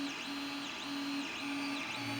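An Ender 3D printer, bought used and repaired, runs a print with steady fan whir and repeating stepper-motor whines that rise and fall in regular sweeps, close and continuous with no voices.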